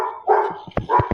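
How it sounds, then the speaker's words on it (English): Dogs barking indoors near a math tutorial, several short sharp barks and yips in an uneven burst, fairly close and loud, with no talking. "You hear my dogs barking."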